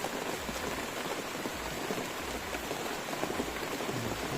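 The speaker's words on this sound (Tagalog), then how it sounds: "Tignan nyo, lakas ng ulan." Heavy rain pours down in a forest, a dense, steady hiss of drops drumming on surfaces all around, loud and unbroken.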